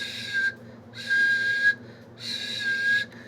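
A person imitates a strange whistle described in a tale about a goblin, giving three sustained, steady high whistles with short pauses between them, close and clear.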